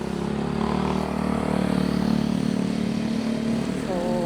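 A motorcycle engine drones steadily close by on the right during a bicycle commute along city streets, a constant buzzing rumble with low wind noise across the microphone.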